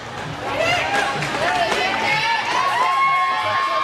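Spectators cheer, roar and shout loudly and continuously at a roller derby game in the Dust Devil 2018 tournament, with excited voices rising above the crowd noise.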